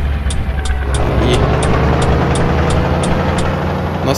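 Steady, loud truck engine drone while driving around a city in the Grand Truck Simulator 2 mobile game, a constant low rumble with faint periodic high ticking throughout.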